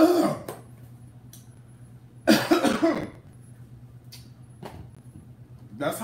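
Several harsh coughs come in short bursts, one strong fit in the middle, over a low steady hum in a quiet room.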